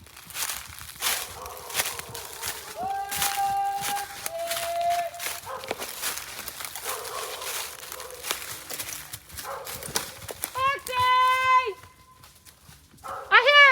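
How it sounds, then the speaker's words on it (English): A dog barks a few times at a distance amid outdoor activity, with people talking intermittently and other animal-like calls in the background. "Somebody's barking."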